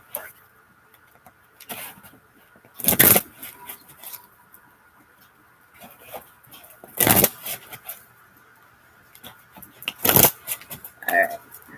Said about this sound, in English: I'm going to pull 3 cards.